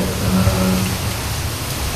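Rain falls on a campsite during a downpour, a loud, broad wash of hiss with a low rumbling undertone, continuous throughout.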